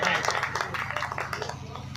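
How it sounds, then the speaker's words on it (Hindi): An audience at a Hindi kavi sammelan (poetry gathering) claps in steady, dense applause that fills the whole moment, with voices mixed in underneath. "एक बार तालियां बजाइए।"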